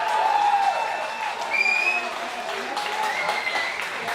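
Spectators at a gridiron football championship game cheer and clap in a broad, continuous crowd roar, with a commentator's voice and sharp whistle tones cutting through above it.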